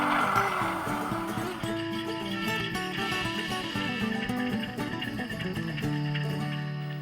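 A model train locomotive with a DCC sound decoder gives a loud, continuous Alco diesel growl: a steady rumbling drone with shifting harmonic tones and no talk over it.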